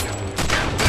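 Gunfire and explosions in the game Not A Hero, a short, loud burst of shots with a heavier blast near the end, crowded and close.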